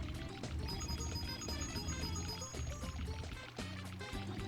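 Flowing water in the Super Mario 64 video game's Whomp's Fortress level, a steady continuous pour running throughout with game music layered over it.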